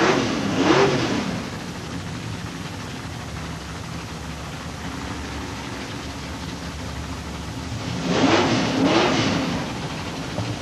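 A Chevy Malibu and another car launch at a 1992 drag strip. Near the start and again near the end, engines roar and rise in pitch as they pass, over steady background rumble.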